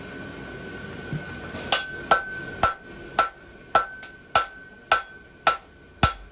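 Hot welded steel for a Euro bar is struck with a hammer at the forge: about a dozen sharp, ringing metallic blows in a steady rhythm, close and loud, with no talk.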